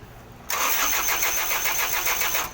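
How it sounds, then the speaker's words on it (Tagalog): A diesel engine cranks steadily with a fast rhythmic starter chug for about two seconds, close and loud, without catching; a fuel solenoid valve fault is suspected. "Check natin, papaandarin natin."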